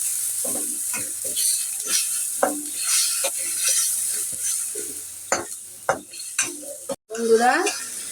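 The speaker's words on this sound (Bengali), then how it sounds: "নোনা মাছটা ভুনা হয়ে গেছে নামিয়ে ফেলব" Salted hilsa fish sizzles in a pan while a utensil stirs and scrapes against the metal in repeated strokes, close and fairly loud.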